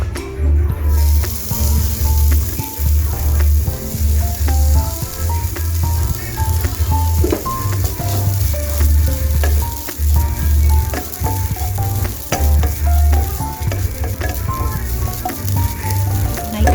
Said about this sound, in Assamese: এতিয়া মই নাৰিকলখিনি ভাজিম।